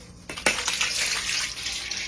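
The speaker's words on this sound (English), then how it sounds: "you're gonna take your peaches straight out of the jar or the can, and you're gonna pour them into a strainer like this" Canned peaches and their juice are poured into a strainer: a sudden splash and clatter as the fruit lands, then a steady rushing trickle of liquid draining through, close by.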